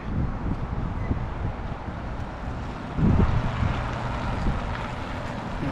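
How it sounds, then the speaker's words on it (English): Steady, low wind rumble buffets the microphone outdoors on Main Street in Bar Harbor, Maine, with a stronger gust around the middle and a constant broadband roar throughout. "the wind is blowing up Main Street right now, making it pretty cold"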